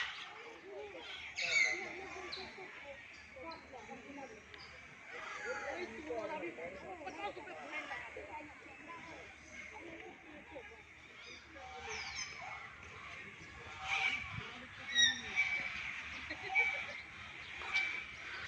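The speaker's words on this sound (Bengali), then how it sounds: "এখানে পাখি আছে এখন দেখতে পাচ্ছি ঢুকেই প্রথমেই পাখি যে বেশ কয়েকটা যে জালতি দিয়ে ঘেরা ঘর আছে" Birds in netted enclosures at the Eco Park zoo in Kolkata chirp and call intermittently in the background, mostly faint beneath continuous nearby talking and outdoor crowd noise.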